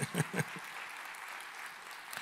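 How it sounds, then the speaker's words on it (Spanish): A congress audience in a Madrid church hall gives warm applause for a pastor's wife, a soft, even wash of clapping from a large crowd, a few words of speech at the start. "Ahí a mi esposa un aplauso."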